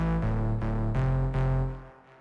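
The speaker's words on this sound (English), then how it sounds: "The bass line is from the Nexus, the analog one preset." A deep, sustained analog synth bass line from a Nexus analog preset, unprocessed, with a few note changes, dry and buzzy, rich in harmonics, playing alone before fading at the end.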